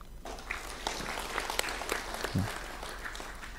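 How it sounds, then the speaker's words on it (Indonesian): Brief scattered clapping rises from an audience at an Indonesian government briefing, faint and uneven over a few seconds of room noise. "Nah, ini boleh tepuk tangan Pak."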